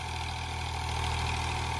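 An Eicher tractor engine idles with a steady, low, even drone, close and continuous, with no voices over it.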